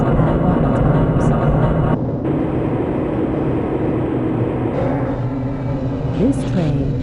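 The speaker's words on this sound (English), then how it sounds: "This train is inbound from the Area 8 topside dormitories to the Central Transit Hub in Area 9." A Black Mesa transit train moving in Half-Life: Blue Shift, rumbling steadily with a low mechanical drone and rattling throughout, one abrupt dip in the middle, and a brief screech near the end.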